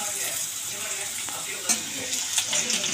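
Onions and green chillies sautéing in a pan, a continuous close sizzle with scraping stirs and a few louder clatters of the spoon against the pan.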